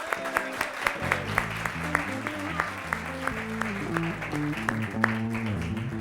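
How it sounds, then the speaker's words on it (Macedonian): An audience claps steadily through a comedy monologue, a dense crowd applause sustained for several seconds, with a voice talking over it. "за тоа заслужувате вие аплауз"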